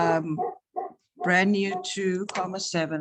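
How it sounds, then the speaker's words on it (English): Dogs bark and yip in a home during an online meeting, sharp, repeated barks close to the microphone, mixed with a person speaking. "I'm sorry about the dogs."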